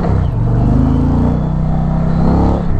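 An Indian Pursuit Limited motorcycle pulls away hard on a 0-60 run, its engine a loud, close, continuous rumble that climbs steadily in pitch through the gears, with no talk.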